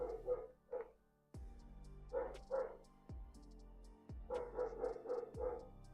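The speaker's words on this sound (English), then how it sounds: "Oh, that fucking dog. It's persistent." A dog barks persistently in repeated bursts of several sharp barks, moderately close, with short quiet gaps and occasional thumps between volleys; no talking.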